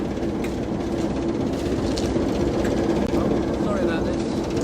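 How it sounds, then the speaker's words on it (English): Heritage railway train on the SDR setting off, a steady loud rumble of moving carriages with faint clickety-clack, voices murmuring in the background. "we're just going to take you for a bit of a train ride"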